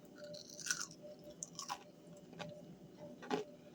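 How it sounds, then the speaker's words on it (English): Crunching on crispy air-fried pumpkin fries, heard as several close, crisp bites and chews spaced irregularly over a few seconds, fairly quiet with no talking. "you hear that crunch?"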